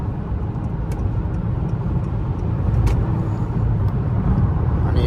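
A car with paddle shifters accelerates through city streets in New York, its engine a steady, close drone that builds slightly in loudness, with faint brief clicks and no speech.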